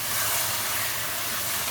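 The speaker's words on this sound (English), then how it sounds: "And now let's add this paste" Tomato paste hitting a hot pan of spiced soya chunk curry, giving a steady, loud, broad sizzle and hiss that holds evenly throughout.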